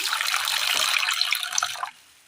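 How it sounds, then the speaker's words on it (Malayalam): Water is poured from close by onto shelled ripe cowpeas in a pan, a bright splashing pour that stops abruptly near the end. "ഇതിലേക്ക് വെള്ളം ഒഴിച്ച് കൊടുക്കാം"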